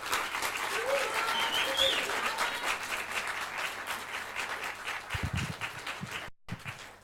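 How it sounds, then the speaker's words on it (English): An audience at the opening ceremony of the 2015 Krusevo youth conference applauds steadily. A few bursts of voice rise briefly near the end before the clapping thins out. "please give a round of applause for Mr."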